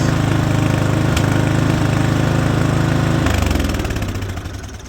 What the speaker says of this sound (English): That's lean popping. The jetting's not right in that carburetor